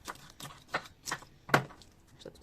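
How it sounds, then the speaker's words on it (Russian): A kitchen knife chops folded lettuce leaves on a board for a tuna and avocado salad, giving four or five sharp, evenly spaced cuts, close and fairly quiet, with no talk. "Также разрезаем напополам, складываем и вот так вот нарезаем салат."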